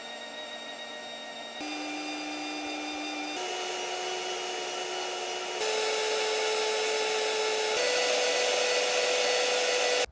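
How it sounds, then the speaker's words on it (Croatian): A machine runs at speed with a loud, steady tonal whine that climbs in pitch in several distinct steps as it revs higher. The noise reaches about 88 decibels and has no voices over it. "Hajde da izmerimo i nivo buke koje ova mašina proizvodi"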